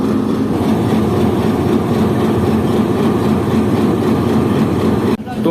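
The Jaffer Express, hauled by a PHA locomotive from Rawalpindi shed, rolls along with a loud, continuous rumble and rattle of wheels on track, heard close from on board.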